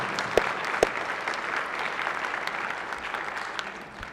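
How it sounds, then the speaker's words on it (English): Guests on the Senate floor are greeted with steady applause from the chamber audience, a dense, even wash of clapping from many hands lasting several seconds with only a few louder claps poking through. "how about a round of applause for our 5 guests on the floor?"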